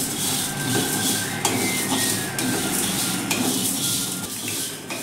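Fenugreek and cumin seeds roasting in a pan over a slow flame, giving a steady soft sizzle with scraping stirs and occasional light clinks of a spoon against the pan, close and continuous.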